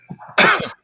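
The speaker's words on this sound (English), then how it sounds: "Oh, sorry. I have a bit of a cough." A single harsh cough bursts out, close and loud, with a few softer vocal sounds just before and after it.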